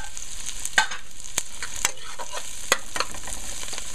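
Long beans and shrimp stir-fry in a hot pan with a steady, even sizzle, broken by a few sharp clicks and pops. No one speaks.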